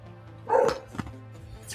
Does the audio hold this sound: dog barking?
yes